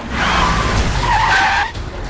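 A car skids to a stop as a film sound effect, with a loud, close tire screech that rises and wavers for about a second and a half before cutting off into a low rumble.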